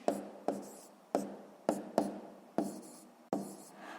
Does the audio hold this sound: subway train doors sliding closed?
no